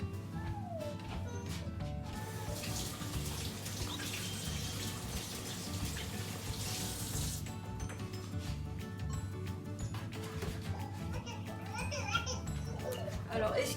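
A kitchen tap runs steadily for a few seconds as hands are rinsed, a broad hiss under ongoing talk with children's voices in the background.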